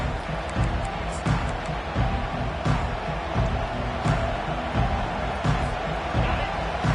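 A packed stadium crowd in a college football video game roars without letup, a dense, loud wall of cheering noise with no break.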